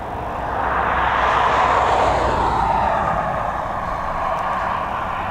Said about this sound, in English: Operated by Portugal Airlines, this TAP Express aircraft.